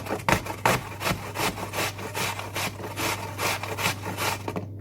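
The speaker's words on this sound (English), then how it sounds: "let's get grating." Apples being grated by hand on a kitchen grater, a steady run of rough, rasping strokes in quick rhythm, close and fairly loud, with a low steady hum underneath.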